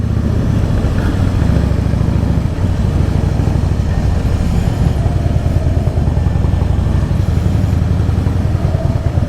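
A Harley-Davidson Fat Boy motorcycle riding on the road, its engine producing a loud, continuous, deep throbbing rumble close up, steady throughout with no voices.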